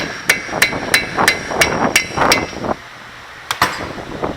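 Sharp metallic hammer strikes on a center punch set against a Toyota RAV4 front wheel hub, about nine close, loud blows in a steady rhythm, a short pause, then two more quick hits.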